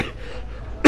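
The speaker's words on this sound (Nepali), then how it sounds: "एकछिन भन्दा भन्दै खोकी आउँछ" A single short, sharp cough bursts out at the very end, after a moment of quiet room tone.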